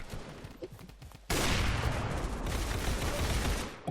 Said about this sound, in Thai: เอฟเฟกต์ระเบิดมา